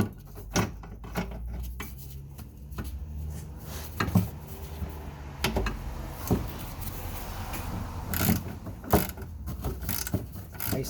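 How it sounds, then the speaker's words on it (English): A ratchet wrench turns a 17 mm bolt on the suspension of a 2011 Kia Soul 1.6. Close metallic clicks and clunks come in irregular bursts, with scrapes and handling knocks between them. "I'm going to switch over to the ratchet."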